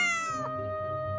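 A cat, belonging to Madam Edith in a mansion, gives a single clear, drawn-out meow close by, bright and tonal at the start and trailing into a lower, softer tail, with no talking.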